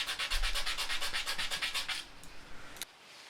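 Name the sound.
sanding and polishing a soft synthetic knife handle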